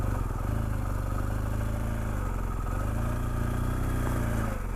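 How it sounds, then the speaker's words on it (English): A BMW GS motorcycle rides along a route in France, its engine a steady, loud mid-pitched drone with wind rumble running unbroken throughout. "So I'm glad I'm on a GS, because I wouldn't be doing this on a sports bike."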